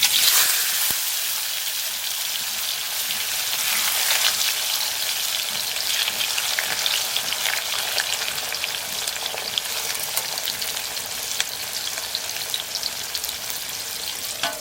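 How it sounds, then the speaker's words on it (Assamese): Potato pieces sizzle and fry steadily in hot oil in a home kitchen, ahead of going into a chicken dish. A loud, continuous crackling hiss fills the whole stretch with no voices. "এতিয়া তেল গৰম হৈ গ'ল, আৰু এতিয়া আমি মাংসত দিবৰ কাৰণে আলুখিনি অলপ ফ্ৰাই কৰি ল'ম।"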